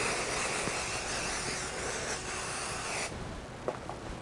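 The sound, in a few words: spraying spray adhesive on quilt fabric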